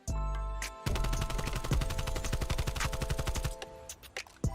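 AK-47U automatic gunfire in Call of Duty: Black Ops Cold War, long rapid bursts of shots in quick succession, loud and close, with a short pause near the end before a few last shots.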